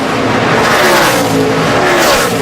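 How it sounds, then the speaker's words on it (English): NASCAR stock cars roar around an oval racetrack at Chicagoland, a loud, continuous engine drone with rising and falling pitch as cars pass close, filling the whole stretch without voices. "There are cars running out of gas everywhere around this racetrack."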